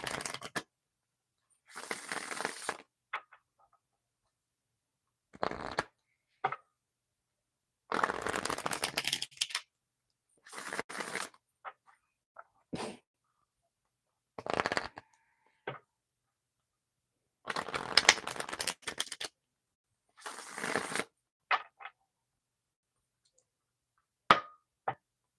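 Several bursts of cards being shuffled and riffled, each a quick rustling flurry, separated by short quiet gaps and soft handling clicks.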